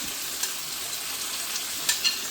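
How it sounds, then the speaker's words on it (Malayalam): Ginger, green chilli and garlic sauté in hot oil for chicken biryani, giving a continuous close sizzle with a few soft stirring scrapes and no talking. "അപ്പോൾ നമുക്കിനി ഇതൊക്കെ വഴറ്റിയെടുക്കാം ഇഞ്ചി പച്ചമുളക് വെളുത്തുള്ളി"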